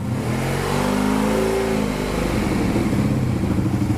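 A sport motorcycle engine runs with the choke on, a steady, close, fairly loud idle with a slight rise and fall in revs. There is no talking.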